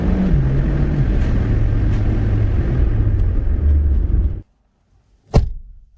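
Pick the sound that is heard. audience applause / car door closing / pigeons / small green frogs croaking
car door closing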